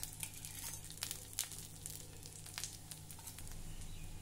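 Oil added to dry-roasted onion and coconut in a pan for a Saoji patodi curry, producing a quiet, crackling sizzle with scattered pops throughout.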